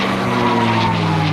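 A loud, steady engine roar fills the sound as an airplane climbs steeply during a 2009 Dayton airshow flight, running at about 2,700 RPM. The drone is close and continuous with no talking.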